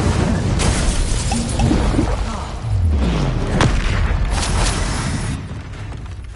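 Fire spell cast in Hogwarts Legacy: a loud burst of booming, crackling magical blasts with deep low thuds, set among other spell impacts in a continuous wash of game effects.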